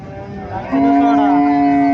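A cow at a busy cattle market for thin, bony animals gives a loud, sustained moo that begins partway through and holds to the end, over a murmuring crowd.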